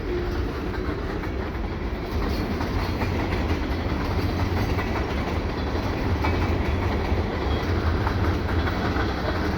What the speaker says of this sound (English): It looks like the end of the train is coming quick.